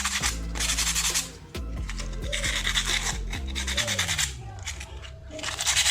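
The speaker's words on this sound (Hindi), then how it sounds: "इसको भी मैं सैंड पेपर से एक बार घिस के वॉश कर लेता हूँ" A disc brake pad from a Bajaj Dominar 400 motorcycle is scrubbed with sandpaper in steady, close, rasping strokes. The rubbing runs almost continuously and pauses briefly about halfway through.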